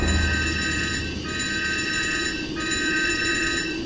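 Alarm bell rings aboard a submarine in the game Uboat during a compressed air leak, a steady continuous electric ringing with two brief breaks, loud and alone without talk.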